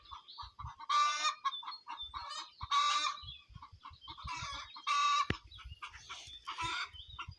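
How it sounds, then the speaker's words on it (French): Chickens clucking and squawking in a henhouse on a sunny day, several birds close by calling in loud, overlapping bursts with short pauses between them. "c'est bien animé, là, le poulailler depuis 2 jours avec le soleil"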